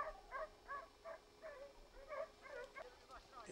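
Hunting dogs during a 1996 wild boar hunt, yipping and whimpering in a rapid series of short, excited cries that come close and fairly loud, with people talking alongside.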